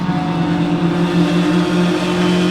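Several race car engines roar together in a steady, dense drone, a tight pack of cars running one car length apart continuously close by at Sebring.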